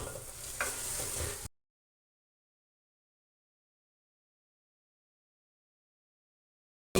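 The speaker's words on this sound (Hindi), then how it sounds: "अब चने डाल के भूनेंगे।" Chickpeas hit hot oil in a pan for a Pakistani chana kofta curry, giving a short burst of steady sizzling and stirring that lasts about a second and a half and then cuts to silence.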